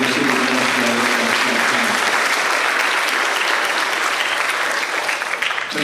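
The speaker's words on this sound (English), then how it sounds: "How about a round of applause for our mayor and city administrator?" Sustained, dense audience applause fills a school board meeting hall, steady and loud throughout as the crowd honors the mayor and city administrator, tapering only slightly at the very end.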